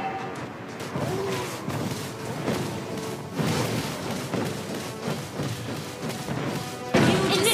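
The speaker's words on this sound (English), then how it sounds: "Your team destroyed a turret!" Turret destruction in the Mobile Legends game: a steady run of heavy thuds and crashing impacts, with a louder burst near the end, dense and continuous over game music and effects.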